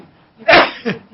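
A single sharp sneeze bursts out close to the microphone, followed by a shorter breathy after-sound, in an otherwise quiet radio studio.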